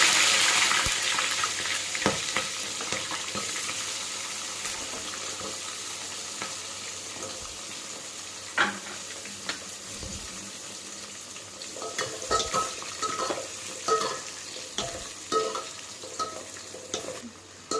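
Onions sautéing in a pan with cumin, fenugreek, dried and green chillies for vendakkai puli kulambu, a steady low sizzle broken by occasional scraping stirs, loudest at the start and busier toward the end.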